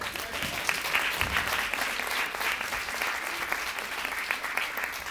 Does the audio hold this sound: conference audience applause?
yes